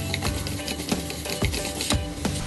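Urad dal frying in a pan is stirred in steady repeated strokes, each a short dry scrape or clack roughly every half second over a low frying hiss, close and moderately quiet, with no voices.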